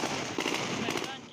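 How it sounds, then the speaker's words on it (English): Celebratory gunfire in Afghanistan rattles in rapid, crackling bursts at a distance, steady and dense like firecrackers, with a voice speaking over it. "The gunfire that followed was to celebrate what the US calls withdrawal and the Taliban calls victory."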